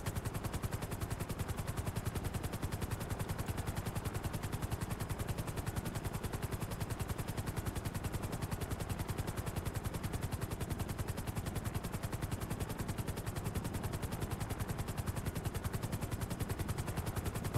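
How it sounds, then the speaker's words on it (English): Jet fighters roar through a GTA roleplay scene, a dense continuous rumbling roar with rapid rattling bursts like gunfire, loud and steady throughout. "Oh god, are those jet engines?"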